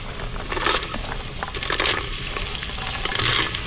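Peas and carrots frying in a pressure cooker with lightly fried onion, a steady crackling sizzle with scraping and stirring noises mixed in, continuous and close.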